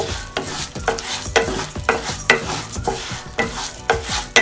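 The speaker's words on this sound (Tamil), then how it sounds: "நல்லா ஃப்ரை பண்ணி எடுத்துக்கலாம்" Food fries in butter for ghee rice while being stirred briskly in the pan, with loud, close scraping strokes repeating about every half second over a steady sizzle.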